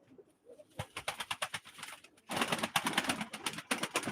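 Pigeons coo and flutter nearby at a live pigeon auction, soft throaty calls that grow denser and louder toward the end.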